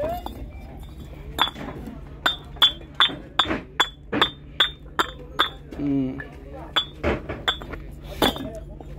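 Bricks at a Bangladeshi brick kiln clink sharply against one another as they are loaded, a steady run of bright hard knocks about every half second, with people talking in the background.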